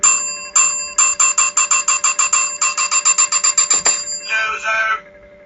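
A bright bell is struck rapidly over and over in quick bursts, loud and close, ending with a short ringing tail.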